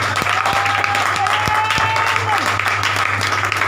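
A church congregation applauds for the Lord during a French-language sermon, steady continuous clapping with a low hum beneath and voices mixed in throughout.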